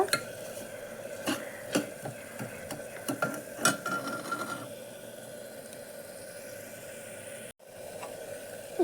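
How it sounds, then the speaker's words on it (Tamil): A spoon stirs rock salt into tomatoes cooking in a pan, with a quick series of metallic scrapes and clinks at first, then a softer steady sizzle close by. "உப்பு சேர்த்து நல்லா கலந்து கொடுங்க"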